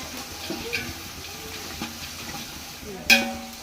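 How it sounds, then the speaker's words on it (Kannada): Dried coconut frying in oil in a pan gives a soft, steady sizzle with a brief clatter of stirring near the end, heard up close with no talking. "ಇದನ್ನ ಸ್ವಲ್ಪ ಎಣ್ಣೆ ಒಳಗೆ ಫ್ರೈ ಮಾಡ್ಕೊಳ್ಳಿ ಕೊಬ್ಬರಿ ಒಂದಿಟ್ಟು"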